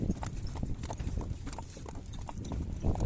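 Horse hooves clop in an uneven, continuous rhythm on hard ground, fairly close, with the low rumble of movement underneath.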